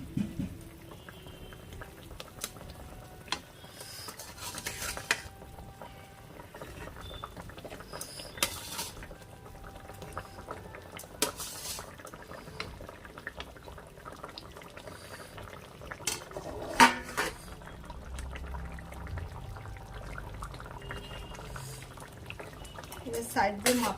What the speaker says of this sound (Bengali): ঝোলটা পুরো এই যে ফুটে গেছে